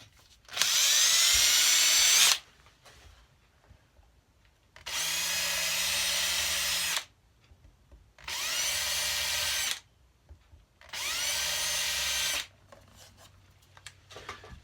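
A power drill whines through guitar body wood in four separate bursts, each lasting a couple of seconds, with short quiet pauses between them.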